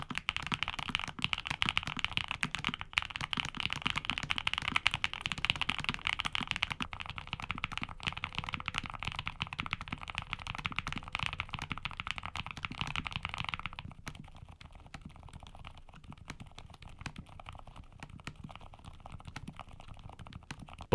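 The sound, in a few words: low-profile mechanical keyboard switches typing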